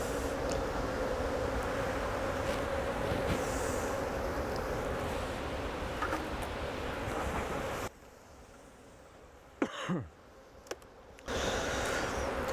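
Bees from a swarmed colony hum in a dense, steady drone close by on the comb. Midway it drops to a quieter hush with a brief louder buzz, then the full hum returns.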